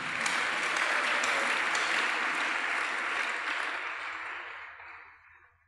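A church congregation applauds during a pastor's worship service, a dense, loud burst of clapping from many hands that holds steady and then fades away over the final seconds.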